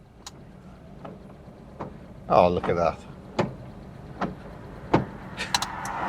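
Windscreen wipers on a Fiat 130 sweep rain off the glass, a couple of quick rubbery swishing passes near the cabin amid soft clicks, while someone inside the car exclaims briefly.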